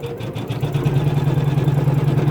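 An embroidery machine stitches a koala lovey in minky fabric on stabilizer, giving a loud, fast, even mechanical chatter close up with no voices.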